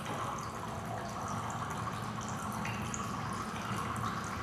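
Water from a perpetual fountain demonstration runs steadily into a beaker, a continuous close trickling and splashing with no talk.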